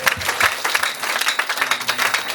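Steady applause from a crowd at a wedding gathering, many hands clapping in a dense, continuous patter throughout.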